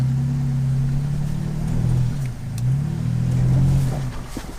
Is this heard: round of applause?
no